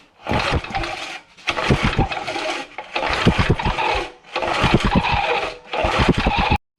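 An old Briggs and Stratton 2HP rototiller engine is cranked by its pull cord four times in a row. Each pull brings a loud, rapid mechanical clatter with short pauses between, but the engine never catches.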